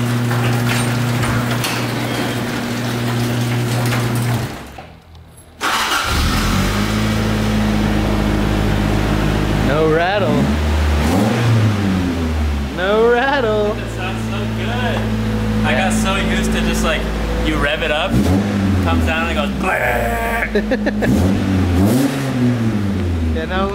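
A Toyota AE86 engine turns over and catches, then is blipped through repeated sharp revs that rise and fall, loud and close, with a brief quiet gap early on and people talking over it.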